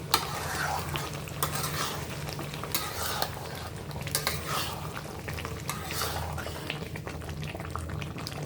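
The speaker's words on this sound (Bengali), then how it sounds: "আমি আরও কিছুক্ষণ কষিয়ে নেব। এটা যত কষবেন তত এটা স্বাদ বেশি হবে।" Mutton and parboiled potatoes frying and being stirred in a pan, with a steady sizzle and repeated scraping strokes of a spoon at close range, no talking.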